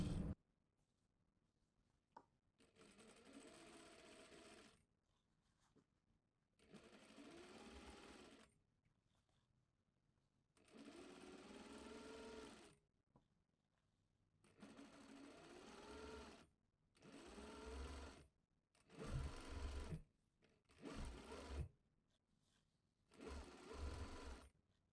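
Sewing machine stitching a seam in skirt fabric, with a back stitch at the start; several separate bursts of steady whirring, close and clear, with short quiet pauses between runs.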